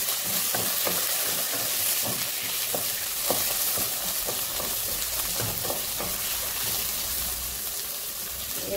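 Tomato pieces sizzle and crackle in a pan with softened onions, giving a steady frying hiss with frequent small pops and occasional stirring taps.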